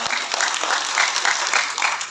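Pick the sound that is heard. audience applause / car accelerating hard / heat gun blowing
audience applause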